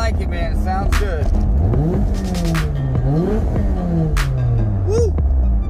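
A Honda Prelude with an H-series engine and a 70mm throttle body is driven, its engine note rising and falling through revs with audible gear changes, close and loud throughout.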